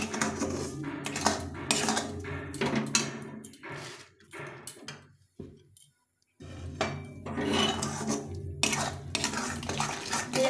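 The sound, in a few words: stirring semolina in a pan for barfi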